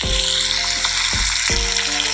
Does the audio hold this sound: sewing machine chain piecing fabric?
no